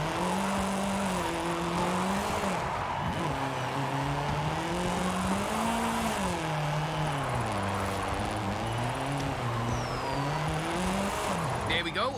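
A Sprinter van in the racing game Forza Horizon 5 drifts down a runway, its engine holding a loud, continuous drone whose pitch wavers and swoops with throttle changes.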